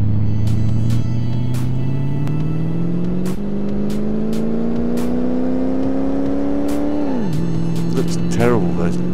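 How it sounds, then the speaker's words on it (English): Engine of a 1929 Lincoln Model L in Car Mechanic Simulator 2018 drones steadily, pitch rising slowly under acceleration then dropping at a gear change, loud and continuous while someone talks over it. "Sounds throaty for an old car like this."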